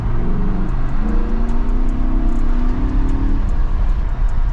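An Audi R8 V10 engine hums loud and near at a steady drone heard through an open window, with rising, whirring tones as it pulls through the revs and a low rumble underneath.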